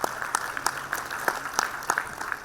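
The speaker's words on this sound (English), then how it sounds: "another round of applause" Clapping from the audience at a 2024 campus graduation ceremony as a graduate is called; a brief, moderately loud patter of hand claps with distinct individual claps, no voices.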